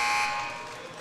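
A basketball game buzzer sounds at the end of the third quarter, a loud, steady electronic tone that holds briefly and then fades into crowd noise.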